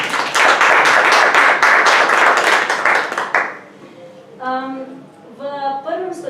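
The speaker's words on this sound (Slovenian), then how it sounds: "za uvod naši sogovorniki zaslužijo en toliko pozdravljen aplavz" A short burst of audience applause at a research ethics panel discussion, dense clapping for about three seconds before it cuts off and a voice begins talking.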